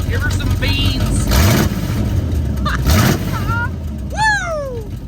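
A 1978 Chevrolet Nova engine with open headers revs loudly in two sharp bursts with a raw, unmuffled bark, then settles to a rumbling idle, with voices chattering and whooping around it.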